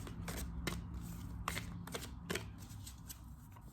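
Oracle cards shuffled by hand for a reading, a quiet series of short papery riffles and flicks in an irregular rhythm, close and soft, with no talk.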